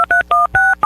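A rapid run of six loud, clean telephone keypad tones, each a short beep with a brief gap, dialing a number for a radio station's call-in deals segment.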